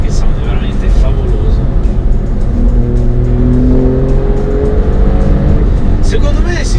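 An Alfa Romeo Stelvio Quadrifoglio SUV engine revs in Dynamic mode, a loud, close, rising growl with climbing harmonic tones as it accelerates, heard alongside road and tire noise.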